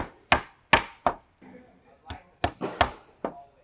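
Sharp hammer blows drive nails into wooden wall framing, about nine close, loud strikes at an uneven pace with short pauses, plus a faint scrape between them.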